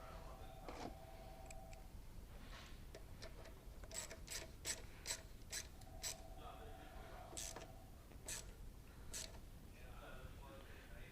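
A stainless steel muffler clamp is tightened on a Coleman 200 minibike, giving quiet bursts of sharp ratcheting clicks, some in quick runs, over a faint, steady background.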